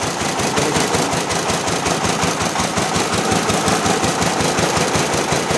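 A small tractor engine runs in first gear with the clutch released while pulling a rotavator on a farm, a steady loud, close chugging beat with rapid even knocks and no pauses.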